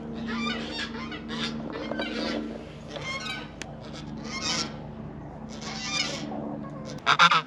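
Poultry honk and cluck repeatedly in bursts, fairly close, with a sharper burst of calls at the end and no speech.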